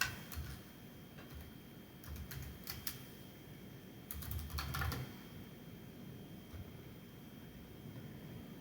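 Typing on a computer keyboard produces faint, scattered clicks in short bursts over a low, steady background hum.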